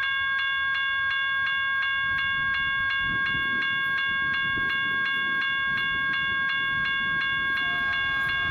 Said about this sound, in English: imagine my surprise when train 229 showed up as a diesel train